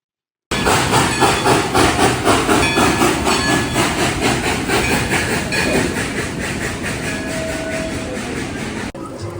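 A Dollywood theme park train rumbles and clatters steadily as it pulls away, with rhythmic clicking wheels and hissing, loud and close, fading slightly toward the end.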